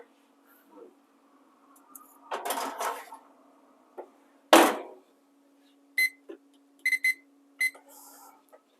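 Kitchen timer alarm beeping while tuna poke tacos are prepared, heard as a few short, moderately loud beeps in quick clusters near the end, after kitchen clatter and a sharp knock, in a quiet home kitchen.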